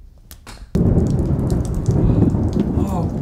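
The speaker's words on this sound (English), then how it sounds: "What is that? Thunder." A sudden loud thunderclap hits during a rainstorm and rolls on into a sustained, heavy rumble, with rain pattering throughout and a brief, faint voice.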